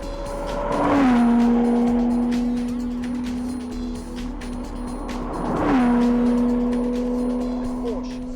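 A Porsche Cayman S 3.4-litre six-cylinder in sports mode revs up twice, each rise swelling loudly to a peak and then settling back to a steady hum, close by with brief background voices.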